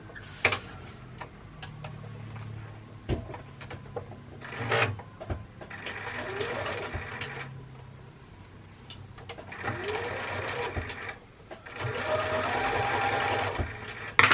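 A home sewing machine runs a 1.5 cm patchwork seam in several bursts of rapid mechanical stitching, near and moderately loud, with brief pauses and small clicks between runs.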